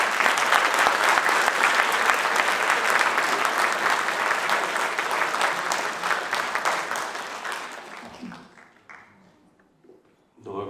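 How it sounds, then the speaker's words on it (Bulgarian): Sustained applause from a gala audience for a village mayor at an annual awards evening, loud and even for several seconds before fading into scattered claps and silence, with a brief sound at the end. "Моля за вашите аплодисменти за кметът на село Чавдар Григор Даулов."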